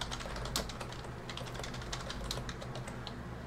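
Keys clatter on a computer keyboard while a password is typed during a Proxmox install on a Minisforum MS-01 mini PC, with quick, light keystrokes tapping in a steady run at low volume.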